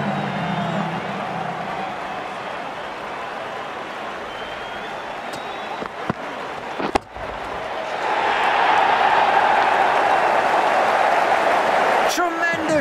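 Stadium crowd at an India vs Sri Lanka cricket World Cup match roaring and applauding after a six, a dense wash of cheering that swells louder in the second half, with a commentator talking over it.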